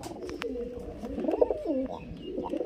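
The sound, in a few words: pigeons cooing, a green and a Jag pigeon pair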